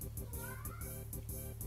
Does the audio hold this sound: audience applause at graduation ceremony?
no